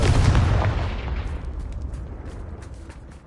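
Confringo blasting spell cast in Hogwarts Legacy: a loud, close explosive burst that rumbles and decays over a few seconds, with faint crackling debris trailing off.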